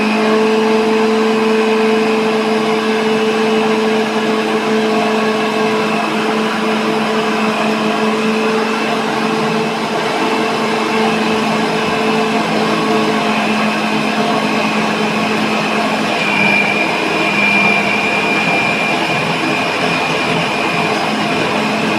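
A Preeti Zodiac mixer kneads atta flour dough with a loud, steady motor drone that runs unbroken for the whole stretch, with no talking over it.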